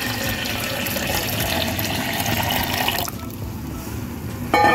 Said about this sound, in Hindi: तो अब मैं यहाँ पर है ना 2 ग्लास के लगभग पानी डालूंगी।